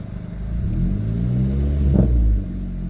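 A VW Golf GTI Mk5 fitted with an 034 Motorsport dogbone mount idles in the cabin, a loud, low, steady engine rumble with a slight swell before settling back.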